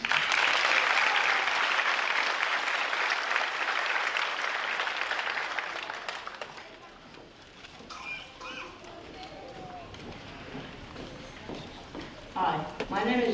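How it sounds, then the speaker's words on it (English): Applause for third grade students at a 2023 Orchard Park School promotion ceremony: loud, dense clapping from a seated crowd that fades after about six seconds, leaving scattered claps, murmuring and a voice near the end. "A round of applause for our third grade friends."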